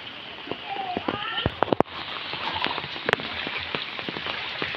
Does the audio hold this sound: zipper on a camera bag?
no